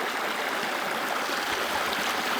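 A Bashkir mountain river rushes steadily, a dense even hiss of flowing water with no pauses and no voices.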